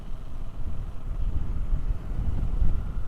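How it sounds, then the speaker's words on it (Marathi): Cold wind rushes on a mountain road between Jomsom and Pokhara, a steady, loud low buffeting roar across the microphone, with gusts swelling throughout and no voices. "हवा चालू आहे ना, थंडीगार भयानक"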